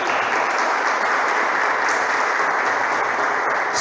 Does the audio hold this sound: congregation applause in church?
yes